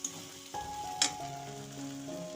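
A spice paste with turmeric and tomato sizzles as it is stir-fried for an egg curry with cauliflower, carrot and potato. The frying is steady and close, with a sharp scrape of stirring partway through.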